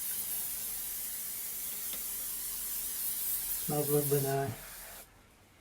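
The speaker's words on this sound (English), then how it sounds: "and then spray it again all over." Fixative sprayed from a can over a soft pastel landscape drawing, a steady aerosol hiss lasting several seconds; a short spoken remark cuts in near the end before the spray stops.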